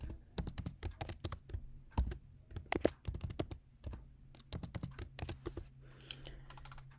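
A password is typed on a computer keyboard, rapid bursts of close, crisp key clicks with brief pauses between groups, in a quiet room.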